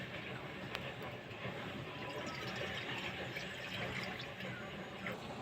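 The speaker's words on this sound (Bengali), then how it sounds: "চাল কুমড়োগুলো ছেঁকে তুলে নেওয়ার পরে যে রসটা আছে, এই রসটা আমি কড়ার মধ্যে দিয়ে দেব।" Leftover ash gourd syrup pours steadily into a wok, a continuous liquid splashing and trickling wash heard close up with no talk.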